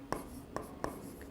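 Chalk or marker strokes on a board during a physics lesson, three short distinct scratching taps spaced about a third of a second apart, fairly close and moderately loud in a quiet room.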